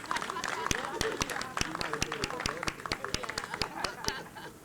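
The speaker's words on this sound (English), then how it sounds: "Give her another round of applause, please." Sharp, rhythmic clapping at a homeownership event, distinct claps in a steady beat, likely a few people clapping together in unison, close, with crowd chatter and murmuring underneath.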